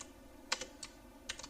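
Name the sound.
typing code on a computer keyboard in MATLAB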